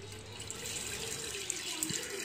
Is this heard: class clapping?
no